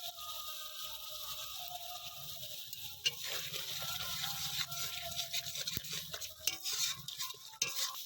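Salted, sweetened masala for doi katla is stirred and sautéed in a pan until the oil separates, a quiet sizzle broken by frequent scraping strokes of a spoon against the pan.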